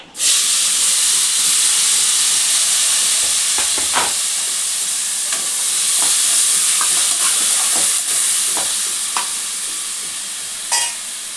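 Chopped tomatoes hit a hot pan with a loud, steamy hiss and sizzle that eases slowly, broken by scattered clicks and scrapes of stirring, with no talk.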